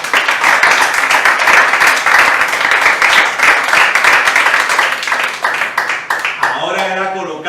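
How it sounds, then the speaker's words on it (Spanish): A church congregation at a Spanish-language service bursts into loud, sustained applause with sharp individual claps and cheering voices mixed in, thinning near the end as a voice rises. "¿Quién le da un aplauso al Señor?"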